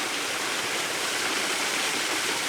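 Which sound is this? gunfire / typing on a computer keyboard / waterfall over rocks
waterfall over rocks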